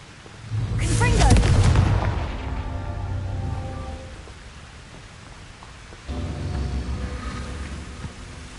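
A fiery Confringo spell cast in the Hogwarts Legacy video game: a loud, booming burst that rumbles and fades, followed by a second, softer blast rumble a few seconds later. No voices.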